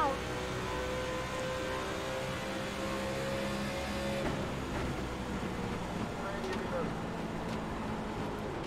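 NASCAR race cars roaring around Pocono in the iRacing game, a steady engine drone with a long held tone that shifts mid-way, while a voice speaks over it.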